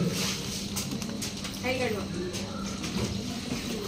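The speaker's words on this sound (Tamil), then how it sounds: "இனி ஒரு முறை கையை கழுவிட்டு" Running tap water splashes over hands being washed during a Hindu pooja, a steady close trickle continuing throughout while a person speaks over it.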